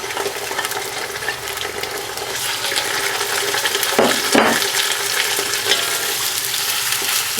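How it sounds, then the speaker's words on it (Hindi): Onions, ginger and garlic fry in hot oil in a pot for a Pakistani chicken and capsicum dish, making a steady loud sizzle with a few scraping stirs partway through. "ऑयल ऐड करने के बाद अपने अनियंस और अदरक लहसुन को दोनों को आप इकट्ठे ही ऐड कर सकते हैं।"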